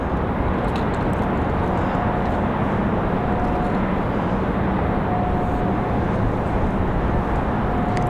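Breeze Airways jet taking off at Raleigh-Durham airport, a steady broadband engine roar that stays loud and even throughout, with no voices.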